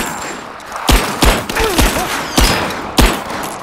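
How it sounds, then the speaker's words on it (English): Suppressing gunfire in the video game Rise of the Tomb Raider: sharp, loud single shots spaced irregularly, roughly seven reports over a few seconds, with a brief whine between them and no talk. "Give me suppressing fire now!"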